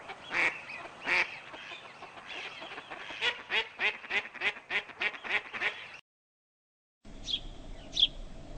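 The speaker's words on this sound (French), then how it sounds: "Le canard colvert." A mallard duck quacks in a rapid series of loud, nasal calls, pausing briefly before two more quacks at the end.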